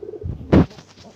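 A pigeon in a loft gives a single short coo at close range, a low throaty burst in the middle of an otherwise quiet moment.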